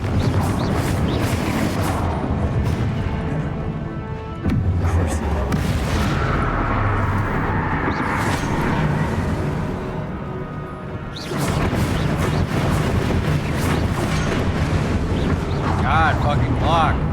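Blasting Confringo spell explosions in the wizarding video game Hogwarts Legacy, loud booming bursts amid dense combat noise, with a voice talking over the chaos.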